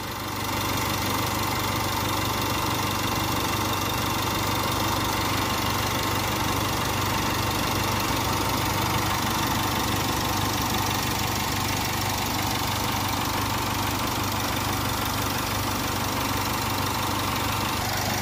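A Jaguar F-Pace 2.0-litre diesel engine idles continuously with a low, even rumble and faint mechanical knocking, no voices, constant in level throughout.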